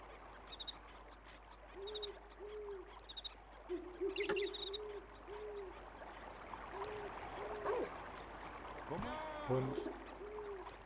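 Owls hoot in a repeated paired rhythm at a moderate level in the video game Little King's Story, set against a soft ambient bed with occasional chimes and other game effects.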